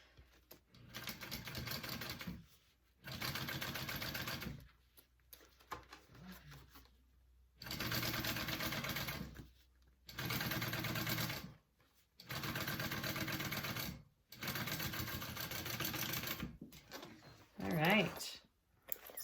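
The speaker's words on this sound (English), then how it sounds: "you're going to top stitch that along the front panel side" A sewing machine top stitches along the front panel of a small fabric wristlet in repeated bursts of a few seconds each, separated by short pauses; a voice speaks briefly between runs.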